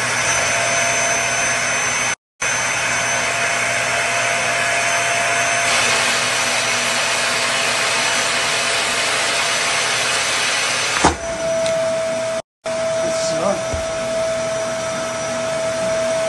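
Vacuum cleaner drawing air out of a stored blanket, running loud and steady at close range, cutting out briefly twice and changing pitch as the bag collapses.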